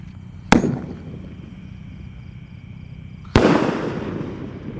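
Two sharp firecracker rocket blasts about three seconds apart at night, each a loud crack with a trailing rumble, over steady outdoor background hiss.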